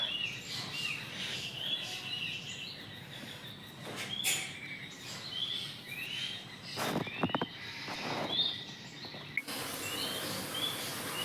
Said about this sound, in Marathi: पक्ष्यांचा इतका छान आवाज येतोय ना,